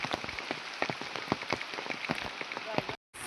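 Rain patters steadily on a nearby surface at a village work site, with irregular louder drops tapping through a constant hiss, briefly cut off near the end.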